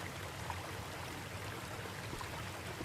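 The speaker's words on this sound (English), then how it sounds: "Waterfall." A waterfall in The Fabled Woods video game gives a steady, dense rushing roar with no breaks, fairly quiet and even throughout.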